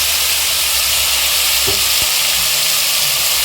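Tomatoes and onions sauté in a hot pan, a loud, steady, close frying sizzle with faint stirring clicks underneath.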